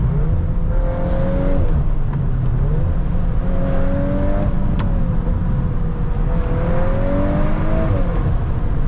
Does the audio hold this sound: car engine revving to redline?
yes